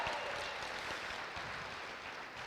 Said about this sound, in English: So a big round of applause for our teen programmers.